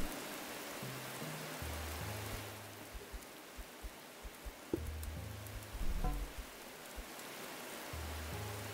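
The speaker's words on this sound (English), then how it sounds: "Looks like we got rain the first day." Rain in the prehistoric city-builder game Sapiens, a soft steady hiss of falling drops under quiet, low musical notes that come and go.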